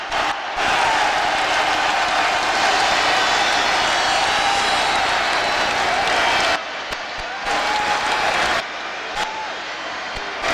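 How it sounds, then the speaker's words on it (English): Boxing arena crowd on its feet in the final seconds of a fight, a loud continuous roar of screaming and cheering that cuts out briefly near the end and then resumes. "Look at the crowd. Look at this. The crowd is standing, screaming."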